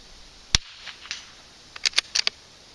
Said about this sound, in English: Shooting a group on a swinging target is kind of tough.